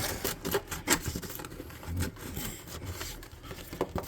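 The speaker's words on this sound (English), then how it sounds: "I'm just going to get a sanding block, kind of rub it in there" Repeated scratchy rubbing strokes of a sanding block against a wooden boat, close by, uneven in rhythm with short rasping bursts.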